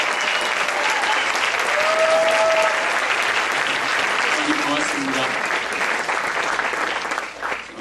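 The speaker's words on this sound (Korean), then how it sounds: "나오실 때까지 우리 감사의 박수를 계속 하도록 하겠습니다" A church congregation at an evening service keeps up dense, continuous applause in a thanking welcome, a loud, even wash of many hands that thins at the end while a voice speaks over it.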